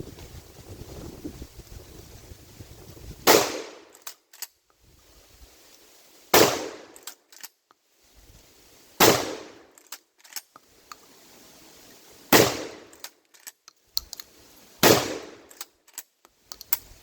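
Outdoor gunshots fired at a bucket sitting on a cinder block about 40 yards up a hill: five loud, sharp reports spaced roughly three seconds apart, each with a short decaying echo, amid wind noise and no talking.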